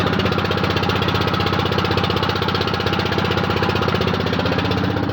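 A boat's motor runs steadily and loudly on the Ganga near the Farakka barrage, a continuous rhythmic chugging throughout with no voices.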